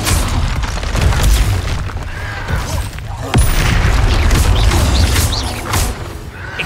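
Confringo spell explosions in the video game Hogwarts Legacy, a string of loud booming blasts with crackling debris and combat clatter following close on one another throughout.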